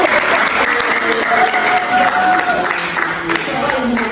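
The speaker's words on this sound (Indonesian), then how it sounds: "tepuk tangan" Audience applause in a university public-speaking class in Bandung, a steady wash of many hands clapping throughout, with faint voices and a tonal sound mixed in underneath.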